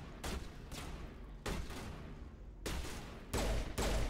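Mass Effect Legendary Edition gunfire on Feros, a squadmate's weapon firing in sustained bursts that arrive in several loud blocks with short gaps between them, no voices over the shooting.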